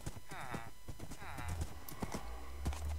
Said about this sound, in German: Ja, Pferde haben jetzt auch Sounds.